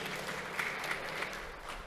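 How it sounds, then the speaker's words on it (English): Applause at a university graduation ceremony, a brief, moderately faint, even patter of many hands from a seated audience in a large hall. "So swagger and take the applause."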